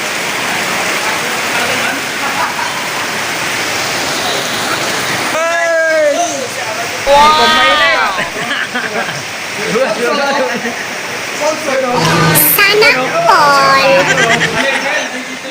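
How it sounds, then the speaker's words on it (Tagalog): Heavy rain pours and floods at a solar panel installation site, making a steady, loud broadband hiss throughout. Several people talk over the downpour. "Grabe ang ulan, bumabaha na."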